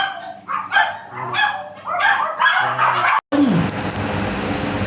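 Dogs bark repeatedly and close by in the first few seconds, then a steady mechanical whir of an air conditioner takes over after a brief break.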